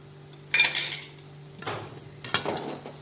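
Metal spoon scraping and clinking in a pan as sugar and cardamom are stirred into sheera, a few short bursts of clatter with quiet gaps between.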